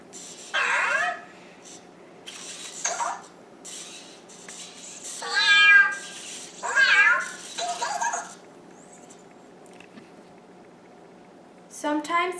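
A Cozmo toy robot by Anki imitating a cat with a series of electronic, rising and falling meows spaced across the moment, separated by quiet pauses.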